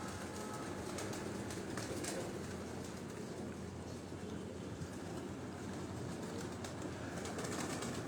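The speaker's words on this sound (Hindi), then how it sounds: "ये दोस्तों ये कबूतर जो मैं आपको दिखा रहा हूँ" Evening pigeons gather on a rooftop in Rawat off Chak Beli Road, Rawalpindi, their steady low cooing blended into a dense, continuous wash of outdoor noise with no voices.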